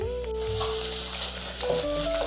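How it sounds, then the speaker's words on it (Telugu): Onions, tomato and green chillies fry in a clay pot with a soft steady sizzle, a gentle hiss that holds throughout, while faint tonal sounds come and go in the background. "నాకు ఉల్లిపాయ, టమోటా, పచ్చిమిర్చి అయితే వేగిపోయాయండి"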